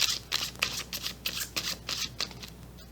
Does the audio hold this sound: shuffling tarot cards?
yes